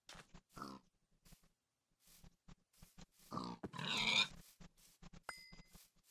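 Several short grunts from a pig in Minecraft, near and fairly loud, spaced irregularly with quiet gaps between, with one longer, noisier burst near the middle.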